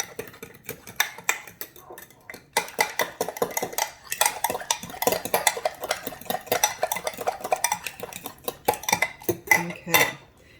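A spoon clinks and scrapes around a bowl while banana pancake batter with vanilla protein powder is mixed, steady close stirring with frequent sharp taps against the bowl's sides; no voices.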